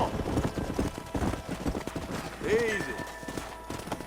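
Horse hooves clip-clop steadily on the ground in the Western video game Red Dead Redemption, close and rhythmic, mixed with a voice and a brief snort.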